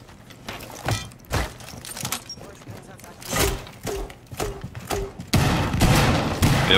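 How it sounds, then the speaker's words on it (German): Gunshots in the video game Rainbow Six Siege, several sharp cracks scattered across the clip amid game noise while players talk over them. "Weil da kam nämlich gerade ein Schuss raus."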